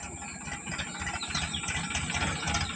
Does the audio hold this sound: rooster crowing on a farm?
no